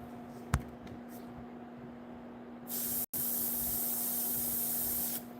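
An airbrush sprays brown paint in patches onto a figure, starting as a soft background hiss and then becoming a loud steady spray that cuts off briefly once and continues until near the end. No one speaks.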